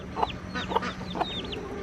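A mother hen with three newly hatched chicks gives three soft, evenly spaced clucks close by, mixed with faint high peeps from the chicks over a low steady hum.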